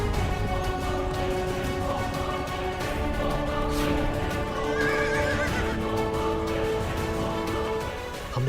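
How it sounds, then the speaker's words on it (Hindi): An unruly horse neighs loudly in a Hindi TV serial scene, giving long shrill whinnies with hoof clip-clop and dense background sound throughout. "इस अश्व को नियंत्रित करना सचमुच में बहुत कठिन है।"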